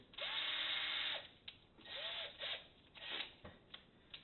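A T10 Torx bit backs screws out, giving a sustained whirring burst followed by shorter, intermittent whirs and small clicks, close by and fairly quiet.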